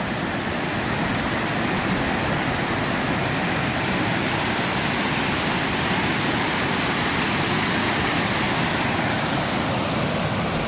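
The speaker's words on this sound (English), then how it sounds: "We're at the top of the waterfall right now." Steady, dense roar of rushing water heard from the top of a waterfall in Colorado's Indian Peaks Wilderness, loud and continuous with no voices.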